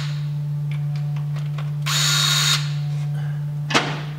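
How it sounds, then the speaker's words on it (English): A power tool backs out bolts on a car during a supercharger installation, with a steady low hum, light clicks and one loud whirring burst in the middle, then a sharp clack near the end. "So we're gonna take this, pull the bolts out."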